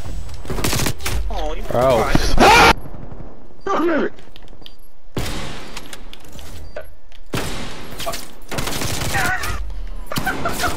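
Video game gunfire crackles in dense, loud bursts separated by short quiet gaps, with a man's brief exclamation partway through.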